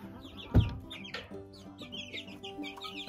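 Several baby chickens clucking and chirping close by in a quiet barn, with a sharp thump early on and scattered soft peeps throughout.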